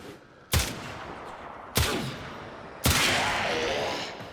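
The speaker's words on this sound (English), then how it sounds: "I'm gonna shoot him a couple times so you can see the damage." Three heavy gunshots from the video game Warframe, spaced about a second apart, each a sharp loud crack with a lingering decaying tail, standing alone with no talk.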